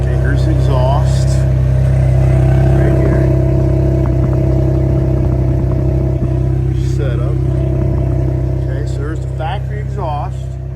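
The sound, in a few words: Ford Bronco catback exhaust idling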